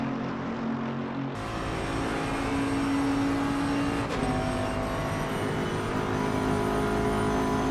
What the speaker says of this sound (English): You can really hear just the purr of that Bentley engine.